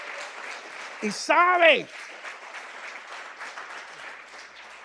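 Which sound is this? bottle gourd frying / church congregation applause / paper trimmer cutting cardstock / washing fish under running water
church congregation applause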